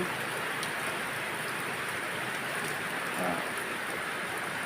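Heavy rain pours down steadily near a riverside home with orchards and flooded canals, a dense unbroken hiss at fairly high level for the whole stretch, with no voices.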